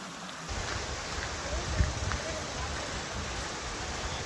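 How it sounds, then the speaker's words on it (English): Lost River, swollen by recent storms, gushing inside a mountain cavern: a steady, broadband rush of water fills the scene, fairly faint and continuous with a brief louder splash near the middle. "This river usually doesn't overflow like this, but because of the recent storms, it was really gushing this time."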